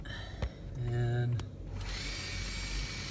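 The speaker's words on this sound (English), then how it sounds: "my drill's going" A handheld power drill spins the speedometer cable of a first-generation Cummins truck, giving a steady close whirring motor tone that shifts pitch partway through and keeps running to the end.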